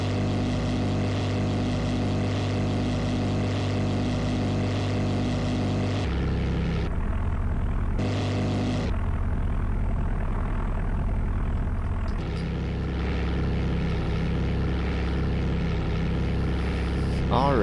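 Propeller engines of a Grumman Goose amphibian droning steadily in flight, a loud continuous hum with strong low harmonics that dips briefly twice and carries on throughout, with a voice speaking faintly underneath.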